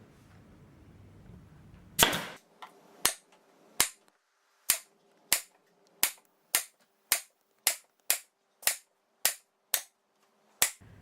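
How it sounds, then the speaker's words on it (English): A staple gun drives staples through fabric into an upholstered headboard board, with a first heavy shot and then about a dozen sharp snaps in a steady rhythm, close and loud, with no talking. "I'll pull it fairly tight and staple it in"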